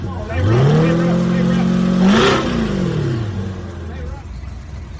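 A base-model 2020 Chevrolet Corvette C8 with the LT1 engine revs loudly and close by, its pitch climbing, holding high, then dropping back to idle over a few seconds.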